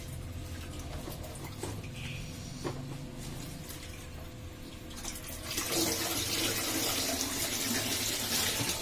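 Manathakkali greens are rinsed under running water. A low background hiss with scattered soft knocks gives way after a few seconds to a steady, louder gush of tap water splashing close by.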